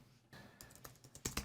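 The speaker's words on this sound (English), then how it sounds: "place my cursor, and start typing another line" Faint, quiet keyboard typing: a handful of soft key clicks in an irregular rhythm, close by.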